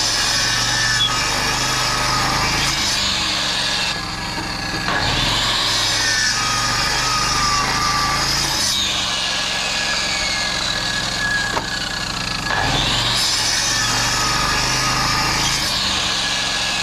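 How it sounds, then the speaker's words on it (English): A small engine-driven saw cutting firewood keeps up a loud, steady high-pitched whine, rising and falling as it bites into the wood in repeated cuts, with no talking. "Well, I need to cut some firewood."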